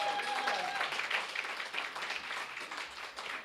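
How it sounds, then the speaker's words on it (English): A brief burst of audience clapping for a performer at a church service, a full steady wash of applause that fades slightly toward the end, with a faint voice at the start. "Let's give another round of applause for April."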